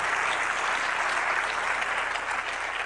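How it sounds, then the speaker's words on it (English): Audience applause at a success seminar, a dense, steady clapping from a large crowd, loud and sustained throughout with no talk over it. "give yourselves a great big hand"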